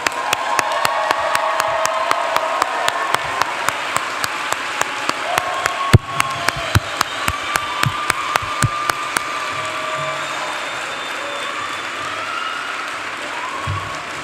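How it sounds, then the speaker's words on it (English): Applause from a commencement audience for a graduating physician assistant class, steady dense clapping with a few sharp louder claps standing out, sustained for about ten seconds before thinning into a lower room murmur. "let's give a round of applause for the class of 2025"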